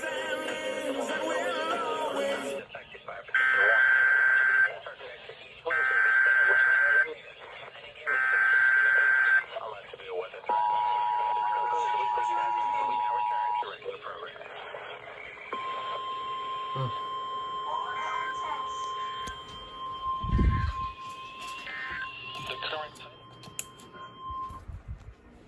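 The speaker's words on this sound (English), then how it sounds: "The preceding signal was a test of the public warning and alarm for transmitters in the Florida listening area" A NOAA Weather Radio public warning alarm test for the Florida listening area plays over radio. Three loud, even buzzing data bursts are followed by a long steady alert tone, then a faint broadcast voice with background noise.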